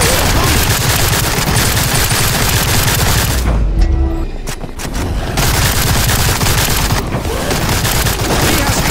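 Rapid, sustained gunfire in the horror game Sker Ritual rattles loud and close, dense bursts that stop briefly for about a second midway, then resume just as heavily.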